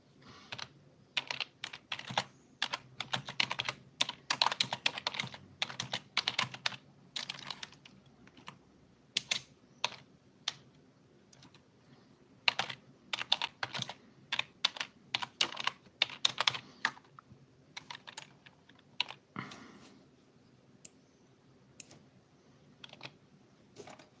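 Computer keyboard typed one-handed, giving irregular bursts of close, crisp key clicks with short pauses between, running throughout with no speech.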